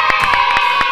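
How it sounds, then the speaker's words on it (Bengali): Students cheering and clapping after a correct answer at a school quiz at Victoria High School, a brief loud burst of crowd noise with rhythmic pulses close by. "সবাই হাততালি দাও"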